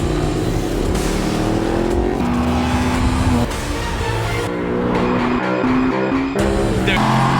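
A Ducati motorcycle races around a wet track in the rain, its loud engine note steady and close throughout, rising and shifting pitch as it accelerates through gears.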